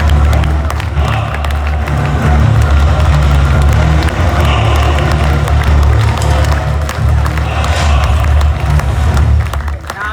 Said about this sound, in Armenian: ծափահարություններ